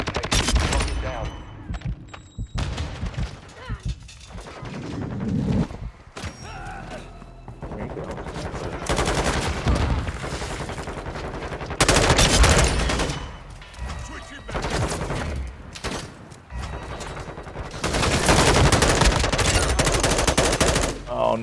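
Dense bursts of automatic gunfire from Call of Duty: Modern Warfare II on the Shipment map, loud and near, with rapid rattling volleys and brief pauses running throughout, with some sporadic voices mixed in.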